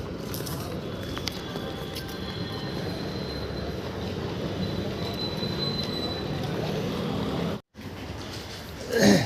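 A train at a railway station gives a continuous rumbling roar with faint squealing tones. It holds steady and fairly loud before a brief cut near the end.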